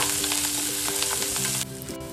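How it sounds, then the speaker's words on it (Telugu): Chopped onions and curry leaves frying in hot oil, a loud close crackling sizzle with a few stirring clatters, softening slightly near the end, no voices. "అలాగే కడిగి పెట్టుకున్న కరివేపాకు కూడా వేసుకొని వీటిని 2 నిమిషాల పాటు ఫ్రై చేసుకోవాలి"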